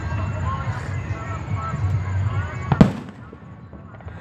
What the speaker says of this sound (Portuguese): tô estourando muito rojão ali, galera